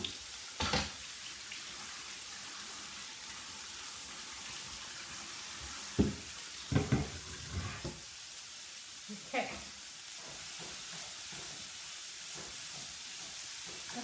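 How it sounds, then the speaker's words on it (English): Tap water runs steadily over a cutting board being washed in a home kitchen while making a keto oven-baked omelet, a constant hiss with a few knocks and clunks of the board against the sink, no talking. "Give my board a wash."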